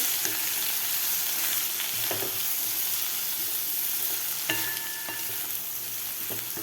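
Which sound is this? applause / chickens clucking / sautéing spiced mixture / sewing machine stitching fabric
sautéing spiced mixture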